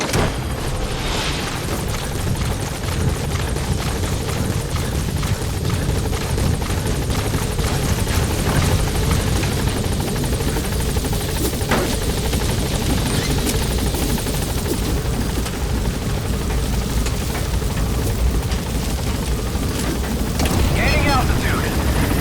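Support helicopter arriving in Metal Gear Solid V: The Phantom Pain, a loud continuous rotor roar with heavy low rumble and occasional bangs, with talk in the game mixed in.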